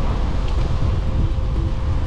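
Steady low rumble of wind buffeting the microphone while road cycling at dusk, loud and constant with no other clear sounds.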